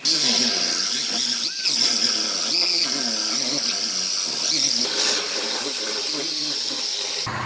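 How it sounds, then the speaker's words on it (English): Power tool cutting off the outer body panel of a car, a sustained high-pitched whine and grinding hiss with wavering pitch, loud and close throughout. "I'm gonna go ahead and get this outer panel cut off"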